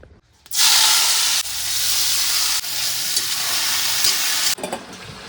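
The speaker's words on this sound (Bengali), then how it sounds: "এদিকে কড়াইতে তেল দিয়ে দিয়েছি হবে উচ্ছে আলু আর পেঁয়াজ মেখে রেখেছি ভাজা হবে" Bitter gourd, potato and onion frying in oil in a wok, a loud close sizzle that bursts in after a quiet moment and continues steadily, with a few sudden shifts in intensity and light stirring sounds.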